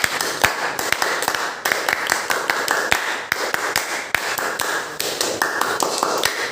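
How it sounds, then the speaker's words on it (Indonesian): Sharp hand claps in a quick rhythmic pattern, the Indonesian Pramuka Scout clap repeated in short bursts, loud and close, with no talking. "Dua kali tepuk Pramuka."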